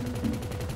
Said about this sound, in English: Oh, you can actually just shoot from this thing.